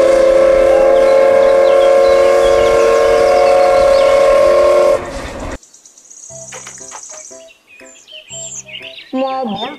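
A toy Thomas train whistles, a sustained tonal steam-whistle-like toot for about five seconds, loud and close, followed by a few short chirpy electronic beeps and toy sounds.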